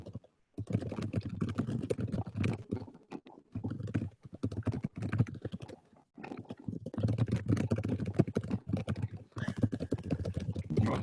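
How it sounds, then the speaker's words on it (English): Rapid keyboard typing clatters close by in dense bursts, broken by short pauses, with a dull low hum underneath. "Only barely over the typing."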